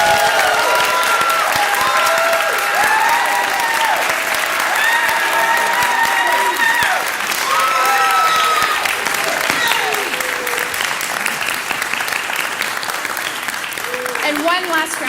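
A commencement audience at a music department ceremony gives loud, sustained applause and cheering for a PhD graduate, with continuous clapping under whoops and shouted cheers throughout.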